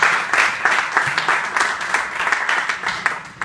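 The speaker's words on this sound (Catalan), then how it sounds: "L'aplaudiment pel Josep Maria Font des de Reus." A crowd at a presentation of team leaders for a 24-hour motorcycle endurance race gives a team leader a loud, steady round of applause, with dense clapping that carries on without pause.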